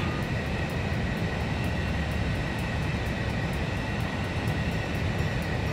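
Jet engine roar of a damaged fighter plane in the Ace Combat 5 video game, a steady loud broadband rumble with no talk.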